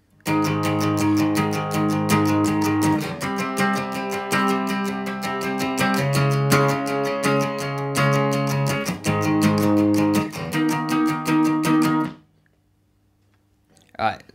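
Electric guitar power chords strum straight eighth-note patterns from a song, loud and driving for about twelve seconds before stopping abruptly into near silence.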